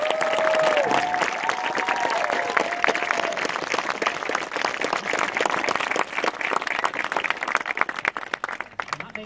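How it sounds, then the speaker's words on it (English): Guests applaud at a wedding ceremony with sustained, crackling clapping from a gathered crowd and a few cheers over it, starting over a brief voice and thinning toward the end. "give them a round of applause"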